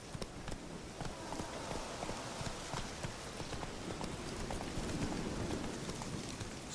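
Horse hooves clip-clop steadily in The Witcher 3: Wild Hunt, a continuous rhythmic trotting with soft thuds on a dirt path, close and fairly quiet over a faint ambient wash for several seconds.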